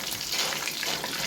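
Chicken pieces frying in hot oil, a steady dense crackling sizzle that holds at an even level throughout, close and continuous.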